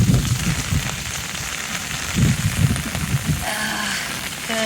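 Big hailstones pelt down during a storm in Roswell, New Mexico, a loud continuous dense rattle and drumming of ice on surfaces with no voices.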